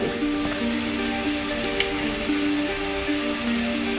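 Green chilies and curry leaves frying in hot oil for a pickle, a continuous close sizzle and crackle with a faint sharp tick, no talk over it.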